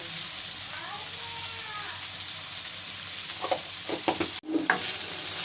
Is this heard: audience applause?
no